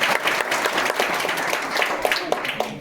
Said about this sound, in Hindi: कहीं जोर से ताली बजाओ।